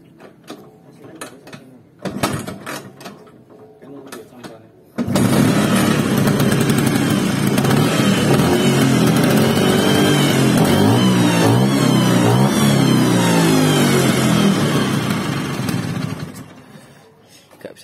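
Vespa PX scooter engine on a workbench setting, starting up after a few brief attempts and then running loudly and steadily with a rough, busy mechanical rattle for about ten seconds before cutting off; faint talk at the start.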